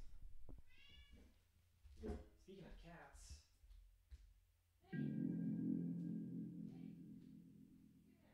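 A cat meows during a card game stream, a clear drawn-out cry in the second half following quieter chatter and clicks, with people talking earlier in the clip.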